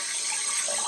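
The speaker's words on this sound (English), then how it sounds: "Watch the water at the toilet bowl." Continuous rushing trickle of water inside a leaking toilet bowl, a steady hiss running close by without pause or voices.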